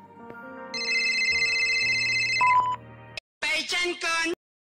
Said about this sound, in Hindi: अरे भाई फोन आ गया किसी का मुझे।